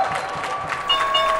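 A crowd cheers and claps at a stock exchange opening bell, a dense, steady roar of voices and applause with a brief whistle-like tone rising above it.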